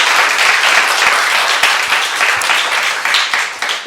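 A church congregation applauds to welcome a guest pastor at a Sunday worship service, with loud, dense, sustained clapping filling the room for several seconds.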